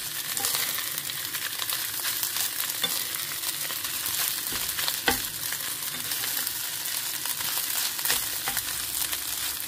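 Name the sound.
fried rice frying and sizzling in a pan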